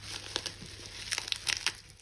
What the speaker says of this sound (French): j'enlève le scotch moi